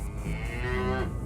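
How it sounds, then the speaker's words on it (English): A cow on a country road lets out one drawn-out moo, loud and close, rising and then trailing off over about a second, with low rumbling in the background. "That's a cow."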